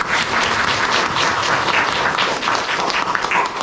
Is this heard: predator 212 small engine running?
no